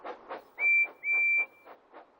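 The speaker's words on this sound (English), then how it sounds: "Percy blows his whistle to help Thomas find him." A toy tank engine's whistle gives two bright, sustained toots, the second longer, over a soft rhythmic chuffing that runs through the whole stretch.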